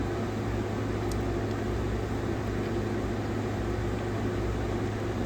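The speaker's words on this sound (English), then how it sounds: "I'm gonna give it 30 seconds in the microwave and see what it does." A microwave oven runs with a steady, even mechanical hum and a low drone throughout, close by.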